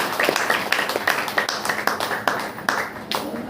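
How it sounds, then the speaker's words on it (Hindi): Church congregation at a Saturday prayer meeting clapping in thanks, a steady rhythmic patter of many hands with sharper individual claps, fairly close, with some voices mixed underneath. "होली मसीह ताली बजाकर उसको धन्यवाद।"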